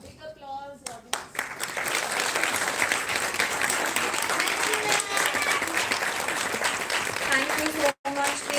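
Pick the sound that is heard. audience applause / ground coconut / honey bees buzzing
audience applause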